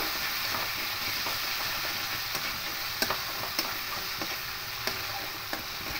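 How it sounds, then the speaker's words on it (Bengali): Grated onion stirred in a hot frying pan while cooking mung dal with rohu fish head, giving a steady close sizzle with occasional soft scrapes of the spoon. "পেঁয়াজের জলটা শুকিয়ে যাওয়া পর্যন্ত সেভাবে নাড়তে থাকবো।"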